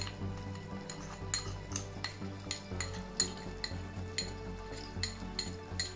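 A spoon stirring tomato rasam with turmeric and rock salt in a pot, producing steady rhythmic scraping and clinking against the metal over a low hum, close and moderately loud.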